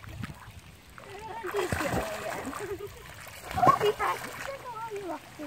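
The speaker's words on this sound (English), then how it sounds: "Oh, Loki, you're splashing me." Dog splashing in lake water, with irregular sloshing splashes close by, a stronger burst midway, mixed with people talking and exclaiming throughout.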